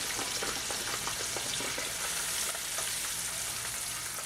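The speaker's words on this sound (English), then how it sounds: "drop some butter in it" A steady, close sizzle of butter frying in a hot pan beside a pork chop, with faint stirring sounds mixed into the hiss.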